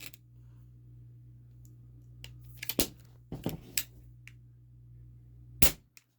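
A Ruger Mark IV pellet pistol fires H&N lead-free pellets, a few sharp, close cracks spaced a couple of seconds apart against a quiet, humming room.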